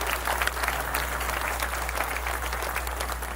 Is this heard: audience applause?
yes